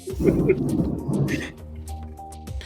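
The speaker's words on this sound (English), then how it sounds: "You do hear rumbles of thunder off in the distance" Distant thunder rumbles low and rolling during a tabletop D&D game session, a steady murmur followed by a quieter tail with a faint tonal hum underneath.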